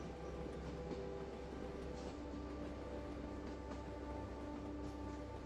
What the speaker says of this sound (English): The train continues its steady journey through the night and through the heart of Australia.